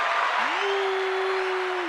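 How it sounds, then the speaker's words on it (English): An audience applauds the arrival of guest Donna Dallas on the Chris and Carlette live stream, a steady wash of clapping lasting the whole moment with a sustained tone sounding over it. "she got a round of applause"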